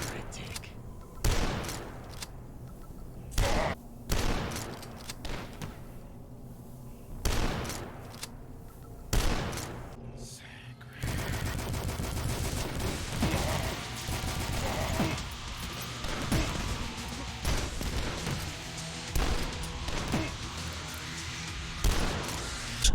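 Super shotgun blasts in Dusk: a series of heavy, booming shots at irregular intervals over the first half, then a dense stretch of continuous combat noise and clattering mechanisms without a break.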